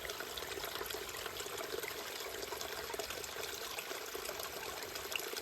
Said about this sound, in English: find a water source, such as this little stream, this little creek right here